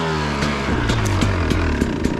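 Dirt bike engine idling while warming up with a smart carb, a loud close buzzing run with rhythmic revving pulses, no talk.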